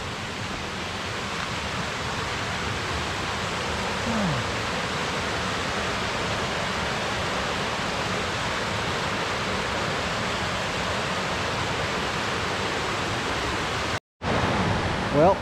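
Steady, loud rushing of water gushing continuously on a wet hiking trail near Lake Vyrnwy, Wales, a broad roar filling the whole clip, with a brief cut near the end.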